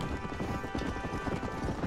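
Horse hooves gallop at full speed in the Red Dead Redemption video game, a dense rapid clip-clop running steadily throughout at moderate loudness with a faint murmur underneath.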